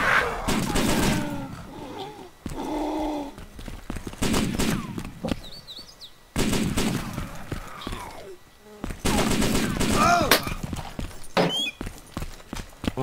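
Rapid bursts of automatic gunfire from the video game DayZ Overpoch, dense clusters of sharp shots in several volleys separated by short gaps, loud and close, with faint voices in between.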